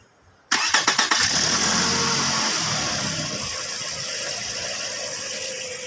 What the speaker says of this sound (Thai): สตาร์ทครับ ติดปกตินะครับ